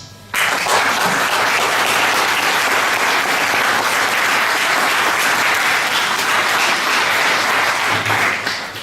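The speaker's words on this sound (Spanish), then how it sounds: "Denle un aplauso." A church congregation bursts into loud, continuous applause that starts abruptly, holds steady and dense for about eight seconds, then tapers off at the end.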